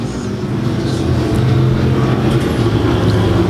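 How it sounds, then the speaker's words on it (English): Stock cars from modified, charger and pure stock classes roar down the back straightaway in a dirt-track main event, a loud, steady engine drone that swells and holds without pause. "moving into that 3rd spot, creeping ever so close, is that 21M of Murray as they go down the back straightaway"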